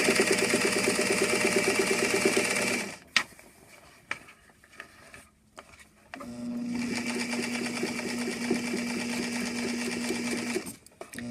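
A sewing machine stitches dress fabric into bias tape, running loud and steady for about three seconds, pausing briefly, then whirring again at a fast, even pace for several more seconds before stopping.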